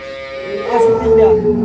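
Dairy cows at Bhai Bhai Agro farm in Bangladesh give a drawn-out low moo that swells after a quiet start, with voices murmuring around it.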